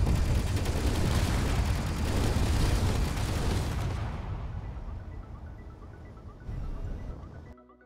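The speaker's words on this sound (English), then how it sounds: "the same goes for the Gatling guns, still being able to shot out after 7 seconds of barrage" A sustained barrage of Gatling gun fire from a retrofitted starfighter in Space Engineers, a dense roaring stream of rapid shots that stays loud for several seconds, then thins and fades with a brief later burst.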